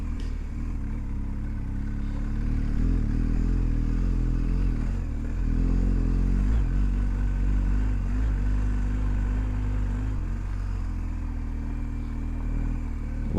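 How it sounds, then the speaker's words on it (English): A BMW 1250 GSA motorcycle slides through deep sand on a shortcut off the road from Pangong to Leh, giving a continuous loud engine drone mixed with scraping and clattering, with no talk. "Bike is sliding nicely. There's a lot of sand here."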